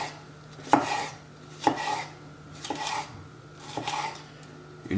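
A kitchen knife slices a red bell pepper into strips on a board, four crisp chopping strokes spaced about a second apart, close and moderately loud against a quiet kitchen hum.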